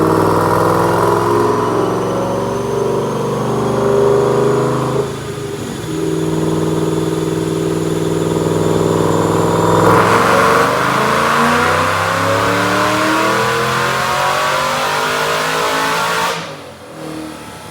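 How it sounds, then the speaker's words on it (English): A 2008 Ford Mustang GT500 with a Whipple supercharger and Detroit Rocker cams, running 93 octane, roars through a dyno pull, engine pitch climbing loudly through the gears with brief shift dips before cutting off near the end. "Check out this dyno pull."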